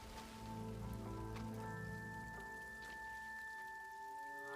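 Rain patters steadily on a surface, faint and continuous, mixed with soft sustained tones in the background.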